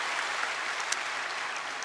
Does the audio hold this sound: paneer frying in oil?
no